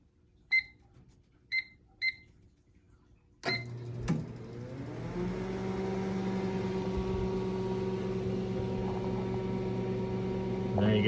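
Three short keypad beeps on a microwave oven, then a click and the oven starts running on a solar generator battery, settling into a steady close hum with a faint fan whir.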